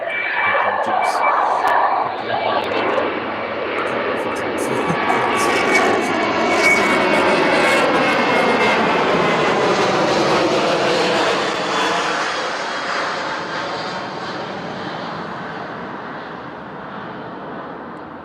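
A Ryanair jet airliner departs East Midlands Airport bound for Girona, its engines roaring loud and broad, swelling then slowly fading as it climbs away, with wind buffeting the microphone and some voices underneath.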